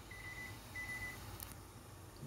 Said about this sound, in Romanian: So, we have a timer here.